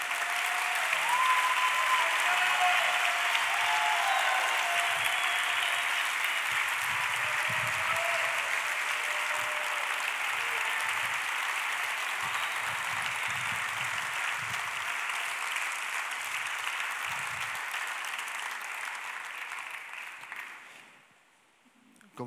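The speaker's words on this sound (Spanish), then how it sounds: "vamos a darle un fuerte aplauso a todos los que nos están oyendo en la radio" A church congregation claps long and hard in sustained, even applause, with a few faint voices underneath, before it fades out near the end.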